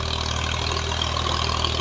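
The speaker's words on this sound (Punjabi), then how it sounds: "240 19 ਮਾਡਲ ਦੀ ਰੂਟਾਵੈਟਰ ਮਾਰਦਾ ਪਿਆ ਚਾਚਾ। 42 ਫਾਲੇ ਰੂਟਾਵੈਟਰ ਆ।" A Massey 240 tractor engine, 19 model, runs steadily while driving a 42-blade rotavator, a continuous low rumbling drone at even loudness throughout with no talk.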